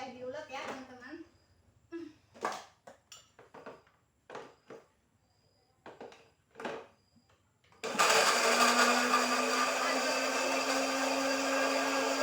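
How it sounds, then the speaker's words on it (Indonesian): After several seconds of someone talking, an electric blender kicks in abruptly, grinding sambal ingredients with ground pepper in a loud, steady, high whirring drone that runs to the end. "Bunda blender."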